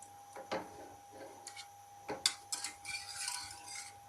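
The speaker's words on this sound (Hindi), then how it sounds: "अब हम इसको साथ साथ अच्छी तरह हिलाते रहेंगे ताकि एक अच्छा सा हमारा पेस्ट बन जाए" A spoon scrapes and clinks against a bowl while cocoa powder is stirred into a chocolate paste for an Oreo shake, producing faint, irregular taps and soft rubbing strokes.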